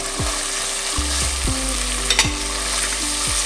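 Chicken pieces sautéed in spiced oil for a Sop Kimlo dish, a steady bright sizzle with repeated stirring scrapes of a utensil against the pan, close and continuous with no talking.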